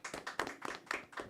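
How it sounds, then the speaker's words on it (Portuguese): A handful of faint, evenly spaced hand claps in a quiet podcast studio, a brief rhythmic patter of roughly four or five beats per second. "uma salva de palmas"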